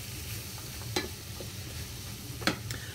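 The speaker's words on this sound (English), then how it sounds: "you just want to stir all those around so all the vegetables get a bit soft" Vegetables for a vegetable biryani sizzling in a pan as they are stirred, a soft continuous fry with two sharper scraping strokes, fairly quiet and without voices.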